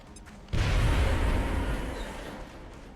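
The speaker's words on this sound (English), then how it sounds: "But what if I throw a grenade at it? Frag out." A grenade detonates in XCOM: Enemy Within, a sudden loud boom after a brief lull, followed by a rumbling decay that fades over a couple of seconds.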